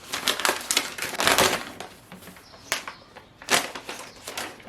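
Bubble wrap pulled away from a Canon tripod, giving close, irregular crinkling and crackling rustles in uneven bursts with a few sharper pops.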